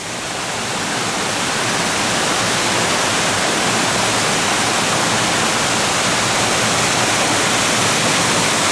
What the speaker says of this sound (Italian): Vedete la cascata?